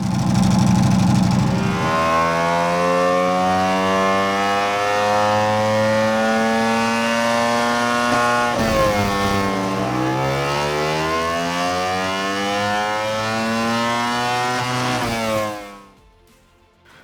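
A Ducati Panigale motorcycle engine revs loud and close on a dyno, its pitch climbing steadily over many seconds, dipping briefly, climbing again, then cutting off abruptly at the end.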